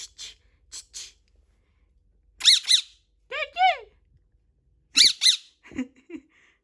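Repeated shrill parrot squawks and squeaks in short bursts, with breathy chirps and brief pauses between calls, close by and fairly loud.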